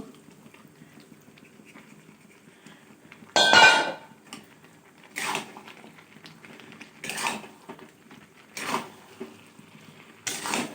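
Fried okra tipped into a cooking pan on a home stove, heard as several short metallic clatters and scrapes at irregular intervals against near silence.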